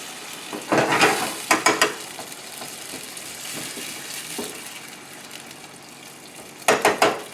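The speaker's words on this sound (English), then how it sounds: "Mix it in well." Diced tomatoes with their juice being stirred into Merguez-seasoned pan-roasted chicken thighs, spoon scraping in short bursts over a steady sizzle, with a cluster of rapid strokes near the start and again near the end.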